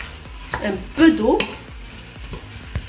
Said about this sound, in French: je le fais toujours revenir comme ça dans le feu